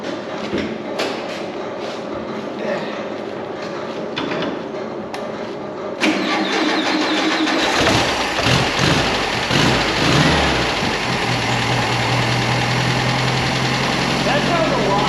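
1973 Volkswagen Super Beetle engine returning after 17 years, cranking and then catching into a loud, rough rev before settling into a steady idle, with people talking close by before it fires.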